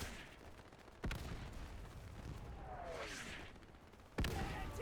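Sharp gunfire and booming blasts in a WWII Stalingrad battle in the Easy Red 2 game: two heavy close impacts about three seconds apart over a continuous roar of distant combat.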